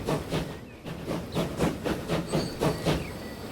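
A train in the Transport Fever 2 video game, set on a UK mods line, pulling away from a station, with a steady run of rhythmic clickety-clack pulses over a soft hiss, moderately loud and unaccompanied by voices.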